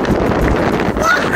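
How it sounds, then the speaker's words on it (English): Strong gusting wind buffets the microphone during an outdoor cycling tour, a constant loud roar and rumble with a person talking over it. "The wind is literally crazy today."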